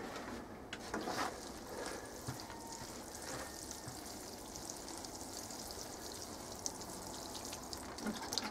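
Water from a watering can splashes steadily into a plant standing in a tub, a faint continuous trickle and patter with no talk.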